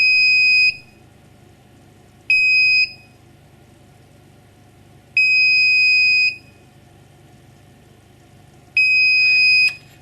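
A DAA Powder Check system's alarm buzzer, which monitors the powder height in reloading cases, sounds four long, shrill electronic tones at roughly even intervals over a faint, low machine hum, with no talking.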